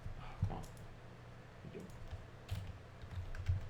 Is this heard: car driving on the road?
no